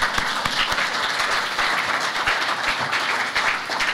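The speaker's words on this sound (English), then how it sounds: "Please give her a round of applause." Crowd applause at a political campaign rally in Michigan, a steady dense wash of clapping that holds at even loudness for the whole stretch with no voices on top.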